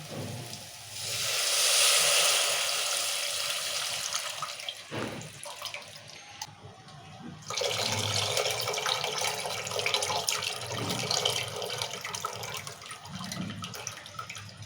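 Water pours from a tap onto tamarind in a bowl while a quick rasam is made in a kitchen, a steady close rushing splash that pauses briefly near the middle and resumes, with no talking.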